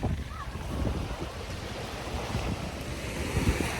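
Strong beach breeze buffets the microphone in low, rumbling gusts, with surf washing continuously underneath and no one speaking.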